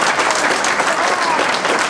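Audience applause at a memorial gathering in Florina, Macedonia, Greece: dense, steady clapping from a crowd throughout.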